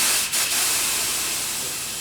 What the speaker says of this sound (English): I always spray my fittings and my posts just in case there's any little nasties that try to creep in